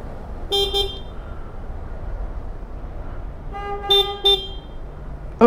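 A vehicle horn honks in short bursts: one early double toot, then a longer pair of honks later, over steady street traffic noise, with another horn starting at the end.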